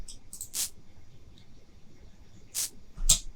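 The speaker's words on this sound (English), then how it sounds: "That's basically the hi-hat." A synthesized hi-hat built from a noise track gives three short, crisp noise hits, spaced unevenly and fairly soft, over a quiet background.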